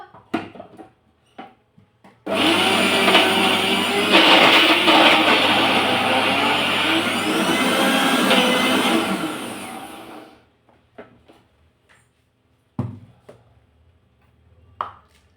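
A mixer grinder whirs loudly as it blends sesame seeds, jaggery and peanuts for laddoo, running steadily for about eight seconds and then stopping, followed by a few light clicks and knocks.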